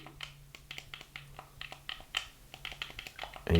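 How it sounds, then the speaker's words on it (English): Buttons on a Hori Split Pad Pro controller click during gameplay, a rapid irregular run of close, light plastic clicks over a faint low hum. "And you can hear those buttons clicking."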